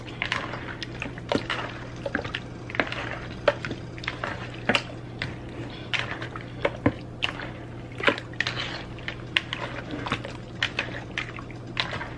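Buttermilk poured over chicken pieces in a bowl, giving wet squishing and sloshing with soft irregular splatters, close up and with no talk.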